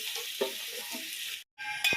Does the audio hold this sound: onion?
yes